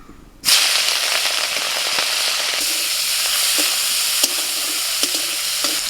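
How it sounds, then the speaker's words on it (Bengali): Prawns drop into hot oil and start a loud, sudden sizzle that holds steady throughout, with occasional sharp spits and crackles over the hiss. "এবার চিংড়ি মাছগুলো ভেজে নেব"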